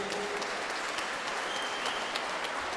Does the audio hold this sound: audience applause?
yes